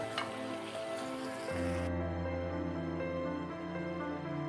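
Parwal and fried potatoes sizzle steadily with spices in a pan, a continuous crackling hiss with a low tonal hum that shifts partway through.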